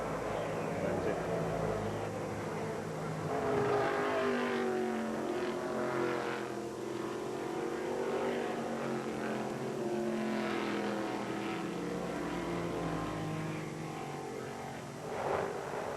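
Race cars at the 1980 SCCA GT-1 National Championship, engines droning and shifting pitch as cars circle the track at middle distance, a sustained roar rising and falling throughout.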